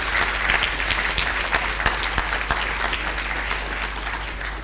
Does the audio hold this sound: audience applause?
yes